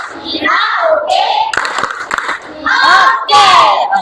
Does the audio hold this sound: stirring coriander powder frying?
no